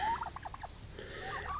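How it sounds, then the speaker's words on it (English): Young homestead turkeys nearing butchering age gobble outdoors in a rapid warbling run, moderately loud and fairly close, over steady background noise, with a shorter burst of calls near the end. "How you like all them baby turkeys?"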